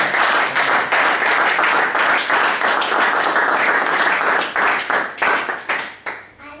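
A church congregation bursts into loud, dense applause that stays steady for several seconds and then thins out into scattered claps.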